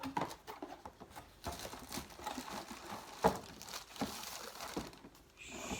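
Packaging of a Karaca small kitchen appliance is opened by hand, with intermittent crinkling and rustling of cardboard and plastic, plus a few sharp taps, fairly faint and close.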